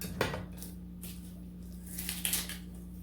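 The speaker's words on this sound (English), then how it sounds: "So let's start by cutting off the ends of our onion" Kitchen knife slicing the ends off a sweet onion on a meat tray while making meatloaf: a few soft, close cuts and taps over a steady low hum.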